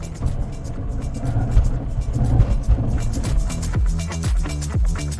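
A car engine drones loudly and steadily, with a deep rumble and rising, shifting tones as the vehicle brakes hard on a wet surface from about 60 to 80 on Nitto Ridge Grappler tires, faint voices underneath.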